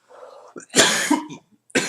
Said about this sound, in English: While he's coughing